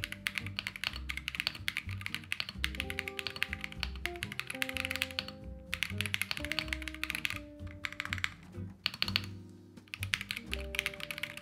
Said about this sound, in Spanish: Quiero que escuchéis cómo suena este teclado